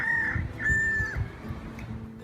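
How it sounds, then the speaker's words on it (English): Wild rooster on Kauai crowing in the open, a clear drawn-out cock-a-doodle-doo with a second call close behind, amid other fowl clucking nearby. "These wild chickens roam freely on Kauai, as they have no natural predators here. It's not uncommon to hear them crowing"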